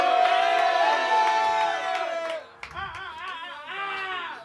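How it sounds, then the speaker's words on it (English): A concert crowd cheers and shouts loudly for several seconds, voices rising and falling together, with a brief dip before the yelling swells again. "make some noise for my man's Bobby."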